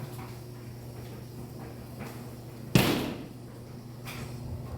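A bathroom door in an off-grid jungle house bangs once against a frame it cannot close into: a single sharp, fairly close knock over faint steady background hum, followed by a softer tap moments later.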